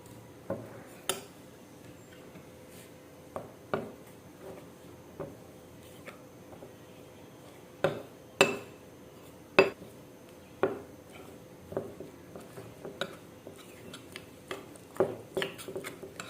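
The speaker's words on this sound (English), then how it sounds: "So go ahead and mix together to form a paste." Ingredients being stirred into a paste in a bowl for a homemade skin remedy, with irregular light clinks and taps of a utensil against the bowl, fairly quiet and close, with no talking.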